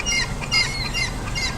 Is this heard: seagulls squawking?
yes